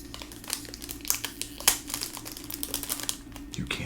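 A cellophane wrapper on a fragrance box crinkles in quick, irregular crackles and sharp snaps, close up and fairly quiet, with no voices.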